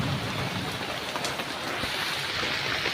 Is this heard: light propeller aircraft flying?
no